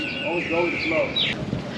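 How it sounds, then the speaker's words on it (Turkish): A gadget sold on the street near a church in the Philippines gives off high, warbling whistled bird calls, close by, sliding up and down in pitch while people talk over it. "Böyle kuş sesi falan çıkartıyor"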